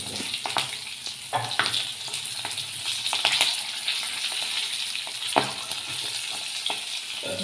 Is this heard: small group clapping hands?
no